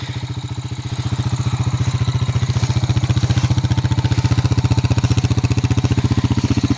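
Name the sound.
Honda Rancher 350 ATV engine running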